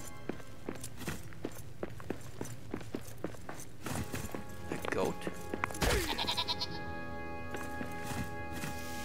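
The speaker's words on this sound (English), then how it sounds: "Goat." A goat in Lord of the Rings: Return to Moria bleats in short, wavering calls midway through. Steady footsteps and a constant background game hum run beneath it.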